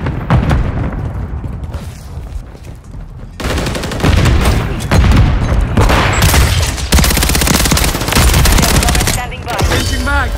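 Dense in-game gunfire from Call of Duty: Modern Warfare III, loud bursts and sustained volleys of shots with booms, nearly continuous after a quieter opening.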